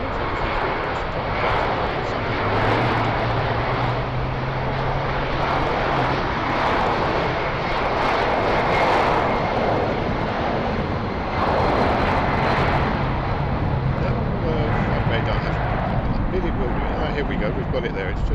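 A Delta Airlines jet bound for New York roars steadily at Heathrow airport, a loud sustained engine rumble with rising and falling swells, while someone talks over it.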